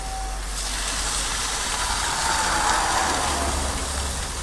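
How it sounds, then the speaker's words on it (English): Steam hisses from the engine bay of a Ford Durango that has overheated after sitting for nine years and then being driven. The hiss is a loud, continuous, broadband rush close by, holding steady for several seconds with no voices over it. "I don't know what the steam is coming from."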